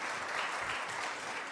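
A church congregation claps steadily in a dense, continuous wash of applause with no voices, fairly distant and even in level throughout.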